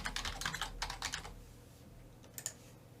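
Clicky typing on a computer keyboard, a quick burst of close keystrokes followed by a pause and a couple of final taps.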